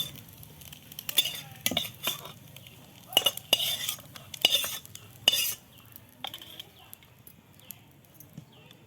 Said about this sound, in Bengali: এটাকে তুলে নিয়ে এই তেলে আমি পেঁয়াজ কলিটা দিয়ে দেব